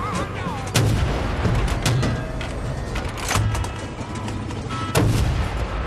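Gunfire from the video game Battlefield Bad Company 2 Vietnam, a multiplayer assault match on Xbox 360: sharp repeated shots and bursts over a constant battle din, with several loud cracks standing out near the front.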